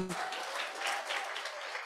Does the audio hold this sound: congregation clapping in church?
yes